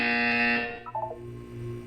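Buzzer in the video game Portal sounds one loud, sustained electronic tone that cuts off partway, followed by a short warbling electronic trill and a faint lingering hum.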